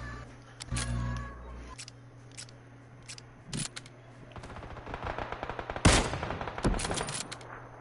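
Bursts of rapid automatic gunfire from a video game, with scattered single shots and a loud volley near the end over steady background noise.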